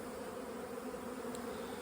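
Honeybees fanning at the entrance of a new nest, a continuous, dense buzzing hum held steady and close throughout.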